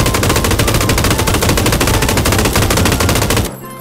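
Rapid automatic gunfire in PUBG is aimed at a gas can, a loud, dense stream of evenly spaced shots lasting about three and a half seconds before cutting off abruptly.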